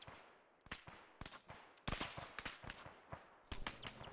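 Scattered gunshots in the shooter game Cerberus Company: Shifting Sands, enemies firing from a road at a moderate distance, sharp irregular cracks and short bursts spread over a few seconds, fairly quiet overall.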